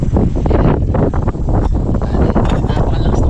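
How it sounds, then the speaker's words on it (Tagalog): Strong wind gusts at a motocamping campsite roar and buffet the microphone continuously, loud and close, with rustling underneath. "Napakalakas ng hangin"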